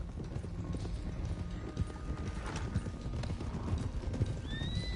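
Horse hooves clip-clop steadily across open ground in the Red Dead Redemption 2 video game, with several animals moving together, a brief neigh, and a continuous outdoor background.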